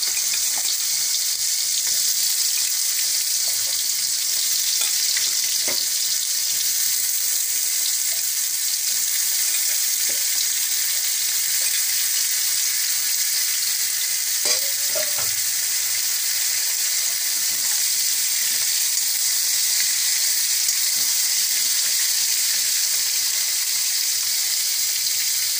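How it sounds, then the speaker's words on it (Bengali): Ridge gourd, pointed gourd and pumpkin fry together in hot oil with a loud, steady, hissing sizzle that holds evenly throughout, with a few faint clinks now and then. "ঝিঙে পটল কুমড়ো একসঙ্গে তেলের মধ্যে ছেড়ে দিচ্ছি"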